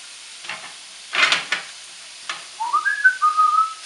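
Steak and red pepper frying in coconut oil, giving bursts of sizzling that flare and fade, then a rising high whistling sizzle in the last second and a half.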